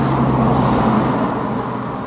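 A car passes on an urban road, its broadband engine and tyre rush loud and close throughout, with a low steady hum, fading slightly toward the end.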